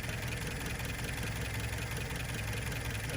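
A cold 1972 Plymouth Cricket engine idling, showing blow-by, with a steady, even broadband rumble that holds at constant loudness throughout, nearby and without voices.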